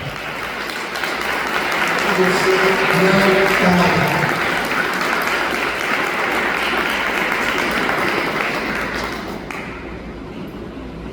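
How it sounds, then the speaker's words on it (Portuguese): A church congregation breaks into loud, sustained applause during a service, swelling and then slowly tapering off. A preacher's voice speaks over the clapping. "Vamos aplaudir a Jesus bem forte."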